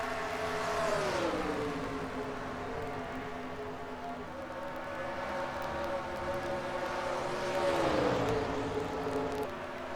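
NASCAR Grand National Series race cars roar around the Dover track, engine tones swelling and fading as cars pass, a continuous distant-sounding drone with a broadcast feel.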